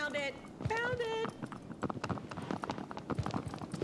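A horse gallops in the PS4 remake of the video game Shadow of the Colossus, its quick, rhythmic hoofbeats close and steady throughout while someone talks excitedly over them.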